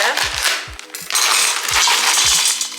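Hard frozen soup-mix pieces, including potatoes, clatter and rattle into a metal pot in several quick bursts, followed by a loud crackling sizzle.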